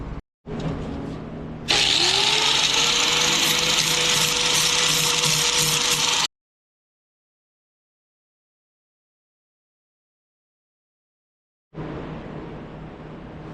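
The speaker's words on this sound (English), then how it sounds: "I'm gonna go ahead and fire up the grinder, get it scuffing" An angle grinder scuffs fresh welds on a Tao Tao ATV frame. It spins up with a rising whine into a loud, harsh, continuous grind for several seconds, cuts to silence, then starts grinding again near the end.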